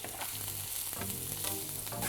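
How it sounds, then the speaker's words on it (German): Onion strips and chopped king oyster mushrooms fry in olive oil in a pan, giving a steady, close sizzle with bright crackling throughout. "Darin brate ich dann die Zwiebelstreifen"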